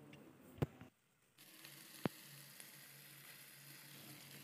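Chicken masala sizzling faintly and steadily in a pot on a clay stove, with two sharp clacks.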